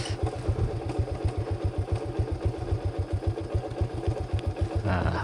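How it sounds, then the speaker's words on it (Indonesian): Motorcycle engine running at low speed on a quiet rural road, a loud, close, steady throbbing putter with regular pulses throughout and a brief rise in noise near the end. "Kita pelan-pelan saja biar gak terlalu bergoyang motornya."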